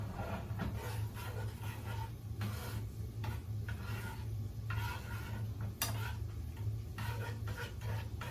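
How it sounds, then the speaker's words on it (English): Ingredients for mango hot wings being stirred together in a bowl, with steady clinks and scraping strokes over a low hum, close and continuous with no talking. "Then you want to mix it all together."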